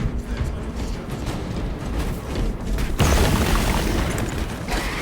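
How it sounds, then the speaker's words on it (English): A melta weapon fires in Space Marine 2, a roaring, booming blast that swells sharply partway through over dense rumbling battle noise, loud and close. "Melter fire will cauterize and fuse."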